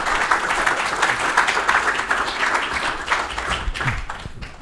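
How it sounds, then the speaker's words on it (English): An indoor audience at a marketing talk gives steady, dense applause that fills the whole stretch and then begins to thin toward the end. "So please join me in welcoming him to the podium with another round of applause."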